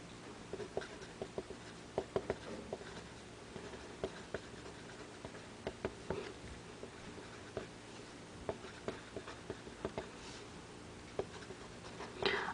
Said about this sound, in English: let's write the same sentence with the Pentel Click